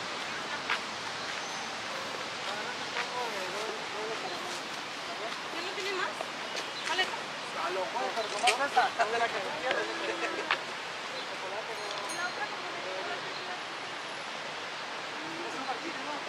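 Lake Michigan waves wash steadily at Ardmore Beach in Chicago, a broad continuous surf hiss with a few louder swells in the middle, heard from the shore without talk.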